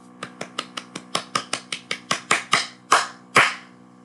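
About a dozen sharp, loud handclaps close by in a room, spaced evenly at first and then slowing and growing heavier toward the end, with no other sound around them.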